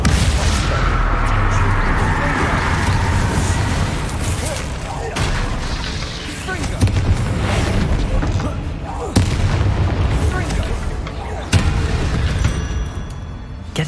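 In the Hogwarts Legacy video game, a Bombarda blasting spell goes off with heavy booming blasts that repeat several times, each a sharp loud burst over a dense rumbling cavern background of continuous game sound.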